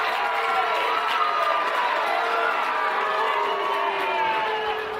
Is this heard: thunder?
no